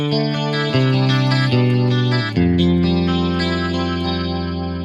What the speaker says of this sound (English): And it adds this nice lush stereo chorus.